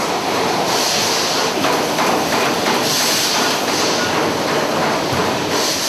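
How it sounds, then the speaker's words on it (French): Steam engine room of an old paddle steamer rated at 305 horsepower, its pistons running in a steady, loud, dense mechanical churn with rhythmic clatter filling the space, no voices. "C'est la salle des machines avec de vrais pistons."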